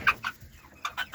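Salmon Faverolles chickens cluck softly in a coop, a few short bursts in two pairs with a brief quiet gap between, fairly close and quiet.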